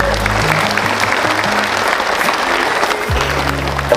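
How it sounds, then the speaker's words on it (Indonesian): An audience at a school event applauds in a steady wash of clapping, loud and continuous, with a low droning tone running beneath it. "Tepuk tangan."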